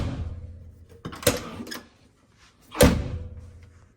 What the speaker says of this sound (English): this is the rear driver's door without any sound deadening.